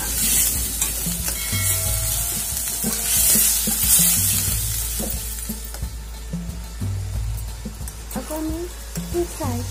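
Masala frying in hot oil and stirred in a pan for an Odia dish, a steady loud sizzle with repeated scraping strokes and occasional clinks.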